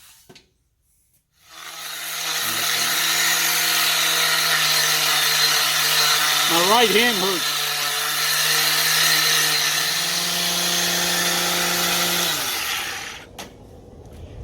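A handheld power tool whirs steadily for about eleven seconds while scrubbing dirt off a car wheel, with a brief rise and dip in pitch midway, then spins down and stops. A voice briefly speaks near the end.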